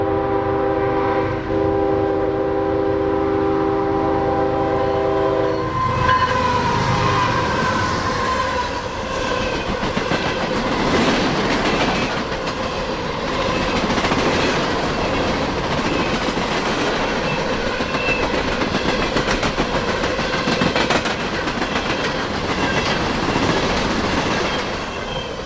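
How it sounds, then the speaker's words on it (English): An empty coal train passes at track speed, opening with a long horn blast, then a steady loud rumble and clatter of wheels over rail joints with occasional squeals. "another empty coal train went flying by at track speed"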